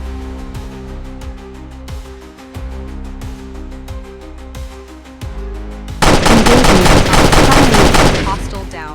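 Gunfire in the tactical shooter game Execute: a steady series of sharp single shots at a regular pace, then a dense, loud burst of rapid automatic fire, close and dominant.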